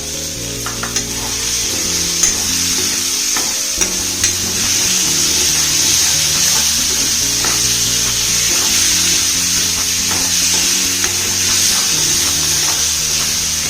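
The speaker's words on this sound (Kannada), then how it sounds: "ಈಗ ಗ್ರೀನ್ ಪೀಸ್ ಹಾಕೋತಾ ಇದ್ದೀನಿ ಒಂದು ಬಟ್ಲಷ್ಟು" Green peas tip into a hot pan for a potato and pea curry with no onion or garlic, raising a steady sizzle with stirring and scraping sounds, mixed with tonal background music throughout.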